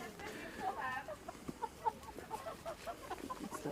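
A voice imitates a chicken, giving a quick run of short, clipped clucking sounds, fairly faint and close.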